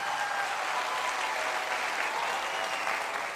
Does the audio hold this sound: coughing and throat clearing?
no